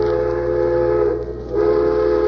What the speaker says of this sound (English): that whistle over on the CPR powerhouse is still going full blast